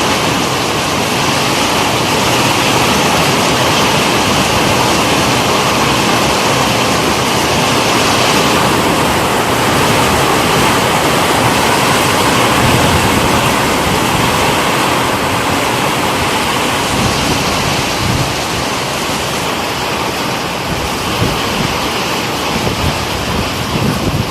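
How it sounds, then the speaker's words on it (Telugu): Heavy rain pours over crop fields in a dense, continuous hiss that stays loud and steady throughout, with no voices. "ఈ వర్షానికి పంట పొలాలు తీవ్రంగా తీవ్రంగా నష్టపోతాయి"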